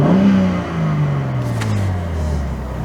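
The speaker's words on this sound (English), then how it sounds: "the exhaust noise is spot on" A BMW G80 M3 Competition xDrive revs with its exhaust valves open, a loud, close engine note that sweeps downward steadily as the revs fall over about three seconds, with no talking.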